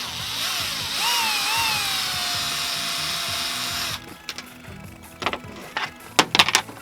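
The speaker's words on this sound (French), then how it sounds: "il y a plein de vis à dévisser." Power drill unscrewing screws while fitting Pro-ARMS suspension arms and an RPM shock protector on an ATV: a steady motor whine that rises and dips for about four seconds, then loose scattered clicks and clatter of screws and tools.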